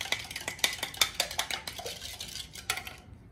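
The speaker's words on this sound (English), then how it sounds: "Stir." Sauce being stirred in a pan, a quick series of sharp spoon-on-metal clinks and scrapes in an uneven rhythm, close and clear, stopping abruptly at the end.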